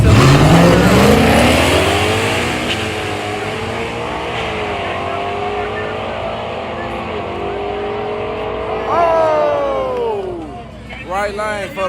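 Small-tire no-prep drag race cars roar loudly off the line at a dragstrip, engines climbing through gears for several seconds, then a second wave of revving near the end with crowd noise and voices underneath.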